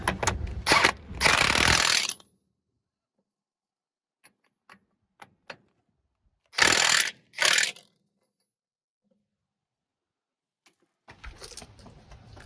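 Bolt tightening on the yoke of a Chevrolet 12 bolt rear axle, with loud bursts of ratcheting or power-tool clatter at the start and middle. Faint clicks fall between them, and a last burst comes near the end.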